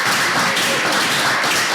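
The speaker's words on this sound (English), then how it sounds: "a round of applause for her, please" Audience applause for a debater at a Nigerian student debate competition, a dense steady patter of clapping hands filling the room evenly for a couple of seconds.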